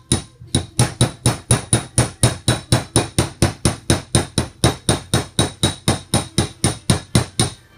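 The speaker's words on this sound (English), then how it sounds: "It's the fall of the hammer," A hammer taps while a parlour-style chair is re-caned, about three dozen light, evenly paced strikes in a steady rhythm, close and clear with no talking.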